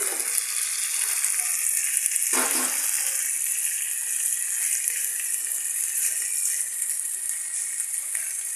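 Fried pabda catfish added to a pan of cooked-down potol (pointed gourd) on the stove, producing a continuous hissing sizzle with a short clattering burst as the fish goes in, moderately loud and without talk.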